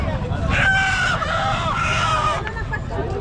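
Several roosters, including Gavran and Kaveri breeds, crow loudly at the Chakan poultry market, long strained calls overlapping amid clucking and a busy background of voices and market bustle.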